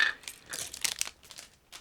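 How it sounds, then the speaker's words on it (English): Resealable plastic bag holding parts of a 1/72 scale ICM Ural model truck kit being opened, a series of light crinkles and rustles in uneven bursts, close and fairly quiet. "truck parts are packed into one resealable plastic bag, so I'm going to open it right now"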